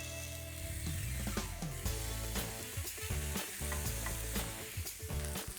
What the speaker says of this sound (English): when you've put them down crossways on a griddle pan like this